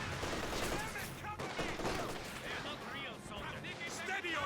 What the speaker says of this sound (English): Mortar shooting at the flank here.